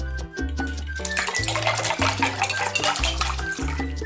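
Ice water poured into a bowl holding vinegar and salt for a boquerones en vinagre marinade, a steady splashing rush with background music throughout.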